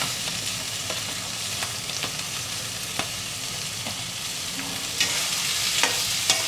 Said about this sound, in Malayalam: ഇത്രയും നന്നായിട്ട് വഴറ്റിയെടുക്കുക